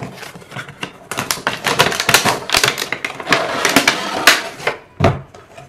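A 5-in-1 hair styler's packaging being opened, close rustling, crinkling and tapping with several sharper clicks and knocks in a busy, uneven stream, without speech.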